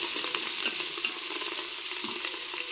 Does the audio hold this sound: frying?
yes